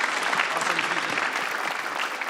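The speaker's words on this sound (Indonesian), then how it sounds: "Para finalis boleh tepuk tangan dulu untuk para komik ini." An audience at a stand-up comedy competition finale gives a loud, sustained round of applause, thick clapping filling the room, with a voice faintly audible beneath it.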